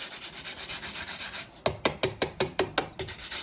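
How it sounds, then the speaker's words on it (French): A Magic Brush is cleaned by rubbing, first as a soft, fast, even scrubbing, then as about nine sharper, slower rasping strokes in a steady rhythm, close up. "Donc je vais quand même nettoyer un tout petit peu ma Magic Brush avant d'emmener à la machine."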